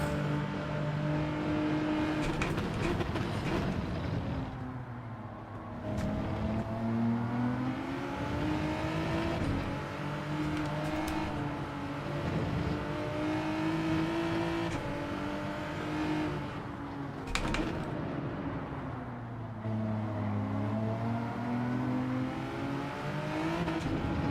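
Porsche race car engine in Gran Turismo 7, a Group 3 daily race at Deep Forest Reverse, droning loud and continuous with rising and falling revs through gear changes, and no talking.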